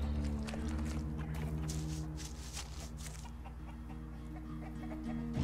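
A cave bird creature in the fantasy game ELEX gives off a run of clucking calls over a steady droning background of game ambience and music, with no one talking.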